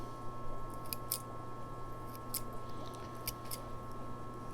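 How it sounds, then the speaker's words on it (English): Scissors snipping the roots of a young willow plant before potting, several crisp, quiet cuts in an irregular rhythm over a steady low electrical hum. "let me get my scissors and just cut some of these roots back."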